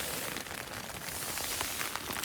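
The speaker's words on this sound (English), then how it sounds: "It didn't stop raining." Rain falls steadily on a hiking trail camp along the Arizona Trail, a soft, continuous patter that stays fairly faint and even throughout.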